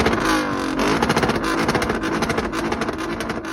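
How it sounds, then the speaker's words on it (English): Exhaust of a 2004 Lexus ES330 with its Toyota 3.3-liter engine, revving loud and close in a steady, throaty drone with pulsing surges, no talking. "we'll be going over the exhaust setup on my 2004 Lexus ES330"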